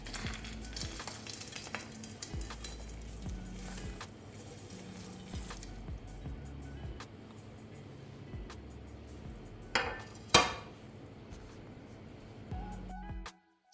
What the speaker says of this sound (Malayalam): ഞാൻ ഇതെല്ലാം ഒന്ന് ജസ്റ്റ് ഒന്ന് ഫ്രൈ ചെയ്തെടുത്തു. ഇനി ഞാനിത് പാത്രത്തിലേക്ക് ഒന്ന് തണുപ്പിക്കാൻ വേണ്ടി മാറ്റാണ്.